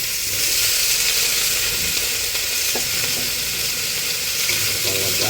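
Squash added to a pan of cooked onion, garlic and ginger, frying with a steady loud sizzle and hiss throughout, with a few soft clinks of stirring.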